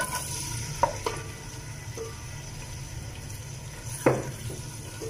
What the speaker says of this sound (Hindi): थोड़ा तेज़ आंच पे मैं इसको प्याज को फ्राई करूँगी